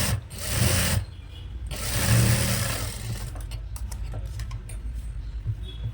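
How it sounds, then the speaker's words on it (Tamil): A sewing machine runs close by, top-stitching a frock nighty in fast bursts of rattling whir that stop and start, with lighter ticking between runs. "இப்போ இதை திருப்பி போட்டு இதுக்கு மேலே ஒரு டாப் ஸ்டிச்."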